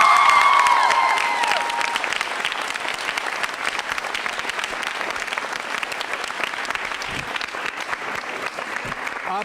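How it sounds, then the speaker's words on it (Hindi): A school quiz show audience at Bright Future Public School breaks into sustained, dense applause that starts loud over a brief tone and then continues steadily for several seconds, with a few voices underneath. "तो फिर तालियां जोरों से बजाइए।"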